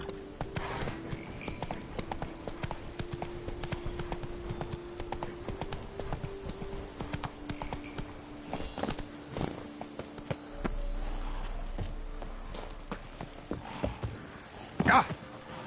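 A horse gallops in The Witcher 3, with rapid, steady clip-clop hoofbeats running throughout, joined by a brief louder burst near the end.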